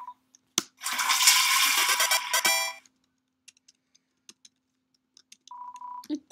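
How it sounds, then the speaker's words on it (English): A toilet flushing in the video game Deltarune, a loud synthetic rush of water lasting about two seconds, followed by quiet sparse blips and a short electronic tone. "You flush the toilet."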